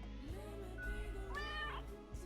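A cat meows in the game Death and Taxes, one faint drawn-out meow, quiet and close, set against a low background hum.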